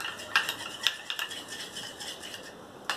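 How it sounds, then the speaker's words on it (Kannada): Aloe vera gel and coconut oil being stirred together in a small container, a series of light scraping and clinking taps at an irregular rhythm, close and fairly quiet. "ಈ ಅಲೋವೆರಾ ಜೆಲ್ಲು ಕೊಕೊನಟ್ ಆಯಿಲ್ನ ಈ ರೀತಿ ಮಿಕ್ಸ್ ಮಾಡಿಟ್ಕೊಂಡ್ರೆ ಒಂದು ಕ್ರೀಮ್ ಥರ ಆಗುತ್ತೆ"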